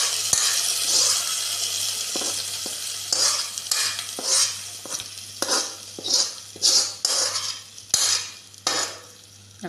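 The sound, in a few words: tempered mustard seeds sizzling as poured into curry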